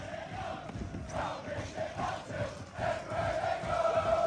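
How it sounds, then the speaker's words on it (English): Near-sellout football crowd at the Grove cheering and roaring after a Halesowen home win over Stourbridge, a dense, steady wall of voices with swelling shouts throughout. "Pretty much sellout crowd at the Grove this evening."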